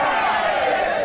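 A wrestling arena audience booing at a German Wrestling Federation event, a dense sustained roar of many voices filling the hall, steady and loud throughout.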